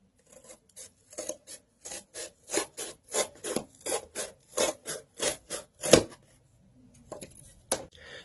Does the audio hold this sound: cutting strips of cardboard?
yes